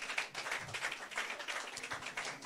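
A church congregation gives a round of clapping, a quick steady patter of hands that carries on evenly through the whole moment, fairly faint and distant-sounding.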